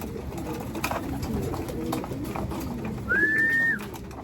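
A soft background hum with a brief, clear pigeon-like call near the end; cooing birds are faint rather than prominent.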